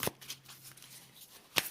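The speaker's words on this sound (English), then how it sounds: "So let's shuffle some more." A Lightworker oracle card deck being shuffled by hand, with soft, close riffling and brushing flutters and a sharper slap of cards near the end.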